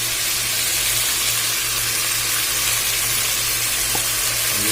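Gizzards and chicken feet cooking as adobo with soy sauce sizzle loudly and steadily in a pan while being stirred, a dense hiss running throughout with a low hum underneath and no voices.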